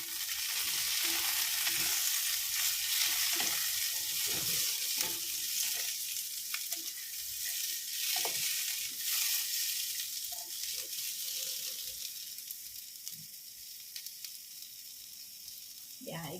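Garlic sprouts and beancurd sizzle and crackle steadily in hot oil while being stir-fried, with stirring clatter over a continuous frying hiss that fades slightly toward the end; a voice speaks briefly at times.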